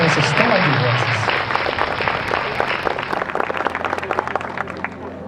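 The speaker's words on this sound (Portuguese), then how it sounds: "eu quero uma salva de palmas para todas essas pessoas que estão aqui" An audience gives a sustained round of applause, dense clapping with scattered individual claps standing out, loud at first and thinning slightly as it continues, with some voices mixed in.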